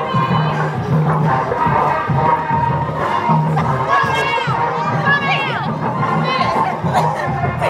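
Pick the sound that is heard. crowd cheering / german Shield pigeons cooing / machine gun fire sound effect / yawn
crowd cheering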